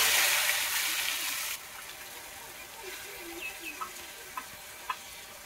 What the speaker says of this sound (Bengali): এখন মশলাগুলো দিয়ে দেবো।